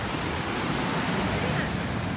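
Ocean surf washing onto a beach at high tide, a steady close roar of breaking water with some wind across the microphone and no speech.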